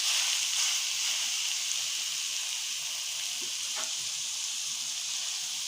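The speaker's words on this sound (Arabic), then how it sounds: "ابتدي احط عليها اللحمه المفرومه" Minced meat, about a kilo, hisses and crackles in a pan over softened, wilting onions, a steady broad frying sizzle with no talk, a couple of faint stirring clicks near the middle.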